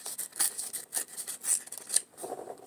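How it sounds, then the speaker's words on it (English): Cardboard material being torn and scraped off by hand for a found-art giraffe sculpture, a run of close, rough ripping strokes in a steady rhythm, with no talking. "So I'm going to go ahead and rip all of this off."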